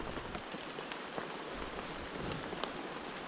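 Steady rain falls on a surface in a rural outdoor setting, a soft continuous hiss with scattered drop taps, moderately loud and unbroken throughout, with no talking.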